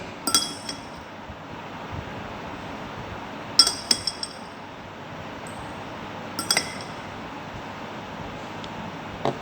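Sharp glass clinks from a watch glass being handled while a microscope slide of a dicot stem section is prepared, three separate clusters of bright, brief taps spaced a few seconds apart over a quiet room hiss.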